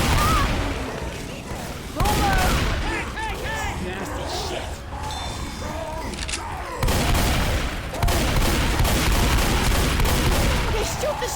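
Rapid bursts of gunfire from the Left 4 Dead 2 survival co-op mode at a gun store map, dense and loud throughout with sharp repeated shots and crashes, while players shout over the action.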